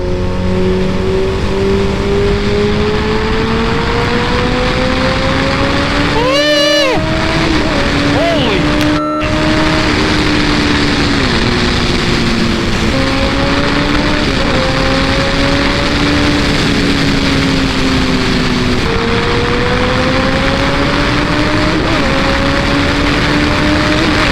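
A 2014 Kawasaki ZX-14R sport motorcycle accelerates hard through the gears, its engine note climbing loudly, dipping at each shift and rising again, with steady wind roar throughout.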